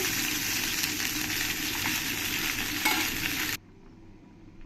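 Tilapia pieces fry in hot oil with a loud, steady, dense sizzle that runs close and unbroken for about three and a half seconds, then cuts off abruptly to a quiet low hum.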